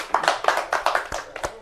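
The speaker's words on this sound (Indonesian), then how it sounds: "tepuk tangan buat Pak Wayan ya." Audience applause for Pak Wayan at an Indonesian talk-show panel, a short burst of many hands clapping close and steady, thinning toward the end with a few isolated claps.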